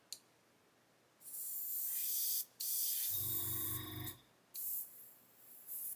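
Compressed air hisses from a Gaahleri Mobius 0.2 airbrush set near 15-16 psi, the loud spray rising and changing as the airflow valve is wound up, with brief drops and a low pulsing flutter partway through.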